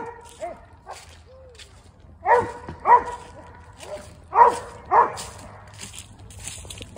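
A hound dog on a squirrel hunt barks in four loud, close woofs in two pairs, with quieter whimpers and yips before them and faint rustling of the outdoor setting in between.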